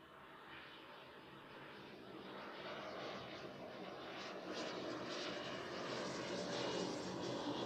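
An airliner takes off at Zurich Airport, its engine roar a faint, distant broadband rush that swells steadily over several seconds.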